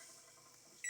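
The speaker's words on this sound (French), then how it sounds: "dans mon petit micro-ondes." A small microwave oven heating coffee hums steadily up close, then a sharp electronic beep cuts in at the very end.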